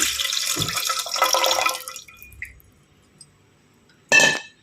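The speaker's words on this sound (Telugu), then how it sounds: "ఫస్ట్ ఒక పాత్ర తీసుకున్నాం నిమ్మకాయ రసం మొత్తం వేసేసుకోవాలి" Lemon juice poured from a container into a vessel for lemon sherbet, a splashy liquid stream for about two seconds that trickles off, followed later by a short clinking splash.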